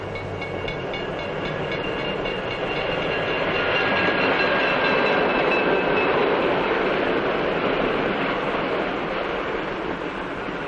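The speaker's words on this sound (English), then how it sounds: "the train is approaching a station." A passenger train rolls steadily along the rails with a continuous, dense rumble and faint high squealing tones, holding loud and even throughout with no talking.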